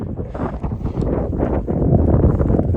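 Chilly wind blows across a mountain viewpoint on the Continental Divide Trail, a loud, gusty rumble buffeting the microphone and building steadily, with no talk.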